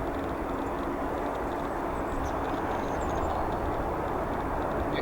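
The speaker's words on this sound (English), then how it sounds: "Next arriving, we have our China Southern Boeing 777F arriving from Anchorage in Alaska." A China Southern Boeing 777F cargo plane arrives at O'Hare airport, heard as a steady, broad jet engine roar that holds constant and fairly loud throughout, with no talking.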